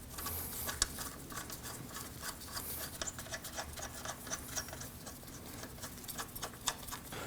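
Lug nut spinning onto the rear wheel hub of a 2003-2006 Subaru Baja, heard as a quiet, steady run of small clicking and ticking taps, close and faint, with no talk.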